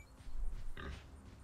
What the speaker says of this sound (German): da ist noch ein Schweinchen